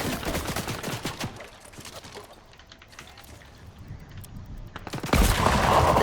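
Gunfire in Fortnite crackles in rapid bursts of SMG and hunting rifle shots, dense at first, thinning midway, then returning as a loud, heavy volley at the end.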